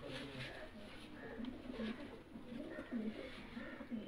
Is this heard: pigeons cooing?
yes